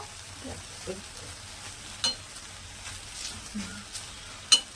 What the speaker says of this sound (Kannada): ಇವಾಗ ಜಸ್ಟ್ ಲೈಟಾಗಿ ಬೆಳ್ಳುಳ್ಳಿ, ಹುಣಸೆಹಣ್ಣು ಹಾಕ್ಕೊಂಡು, ಜಾಸ್ತಿ ಏನು ಫ್ರೈ ಮಾಡಬಾರ್ದು, ಲೈಟಾಗಿ